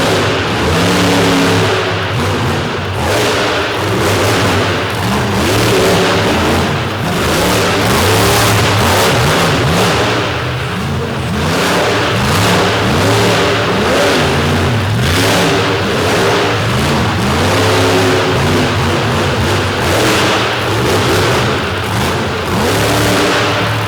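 A monster truck named Toxic at a Monsters of Destruction show in Corbin, Kentucky, its big engine roaring and revving loudly and continuously, surging up and down in repeated waves for the whole stretch with no voices over it.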